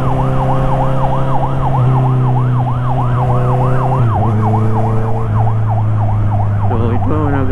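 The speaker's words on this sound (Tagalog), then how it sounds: "may wangwang yung ambulance" An ambulance siren wails in a fast, rising-and-falling cycle close by on an elevated expressway, heard over the steady drone of a motorcycle engine.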